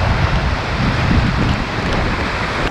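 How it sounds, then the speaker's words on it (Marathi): Strong water flow at Kalu waterfall roars as a loud, dense, continuous rush with no breaks and no voices. "पाण्याचा फ्लो इतका जोरात आहे ना"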